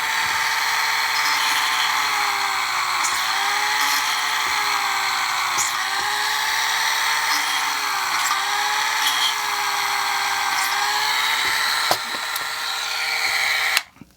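A small drill bores holes in a white metal kit for a DJH BR Standard 2MT 2-6-0 locomotive, giving a steady, close, high-pitched motor whine that sags slightly under load now and then, then cuts out abruptly at the end.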